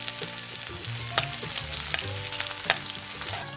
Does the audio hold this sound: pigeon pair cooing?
no